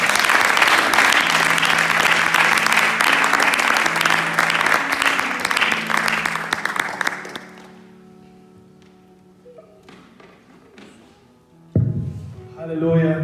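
A church congregation at a Sunday service applauds a pastor as he comes forward, loud sustained clapping and cheering over background music for about seven seconds, then fading to quieter sounds before a voice begins speaking.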